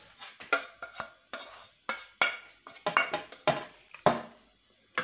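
Metal utensil repeatedly scraping and clinking in a pan while Chinese vermicelli is stirred together with button mushrooms, irregular close knocks and scrapes with no talking.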